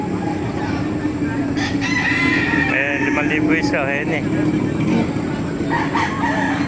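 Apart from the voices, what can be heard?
roosters crowing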